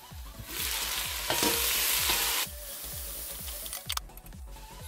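Chili and potatoes sautéing in a pan for chicken with mustard and onions, a strong hissing sizzle under a regular low thumping, with clattering utensil knocks near the end.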